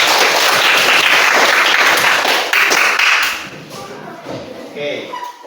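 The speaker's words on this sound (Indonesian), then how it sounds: "Tepuk tangan untuk kita semua." A classroom of students bursts into loud, dense clapping that holds for about three seconds, then fades out into scattered claps and murmuring voices.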